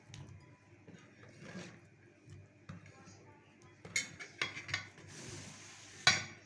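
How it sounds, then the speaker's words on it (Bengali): Cut cucumber pieces being dropped into a bowl while making a salad, making a few faint clinks and soft taps, with light clatter growing sharper toward the end and a quiet voice at times. "এখন এটা বাটির মধ্যে শসাগুলো নিয়ে নিচ্ছি।"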